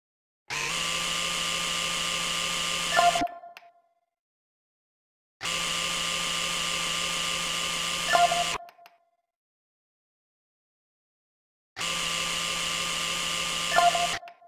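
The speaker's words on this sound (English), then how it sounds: "Grab the pin driver." Pin driver drilling anchor pins during a virtual reality knee surgery game, three separate whirring drill runs of about three seconds each, steady and fairly loud, each ending with a brief higher whine and followed by silence.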